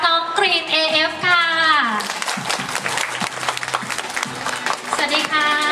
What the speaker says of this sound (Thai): ขอเสียงปรบมือดังๆต้อนรับน้องกรีน AF ค่ะ